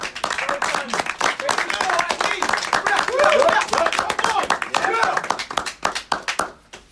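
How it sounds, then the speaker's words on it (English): Group of people clapping for the goalkeepers, a loud, busy burst of many quick hand claps close by, with voices mixed in, thinning into a few scattered claps before trailing off. "Let's give him a clap."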